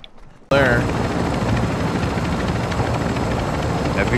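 Heavy helicopter flying in the video game Call of Duty DMZ, a loud steady rotor roar that starts abruptly and holds throughout, with faint gunfire and voices in the mix.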